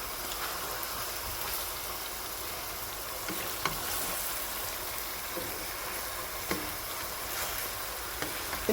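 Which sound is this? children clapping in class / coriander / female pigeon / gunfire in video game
coriander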